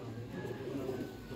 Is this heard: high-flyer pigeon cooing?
yes